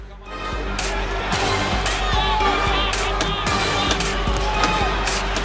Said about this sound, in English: the crowd at the Atlantic City Convention Center comes to its feet to applaud that